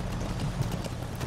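Horse hooves clip-clop in Metal Gear Solid V: The Phantom Pain, an in-game horse in Afghanistan, a steady run of quick hoofbeats close by over a low game ambience, with no talk.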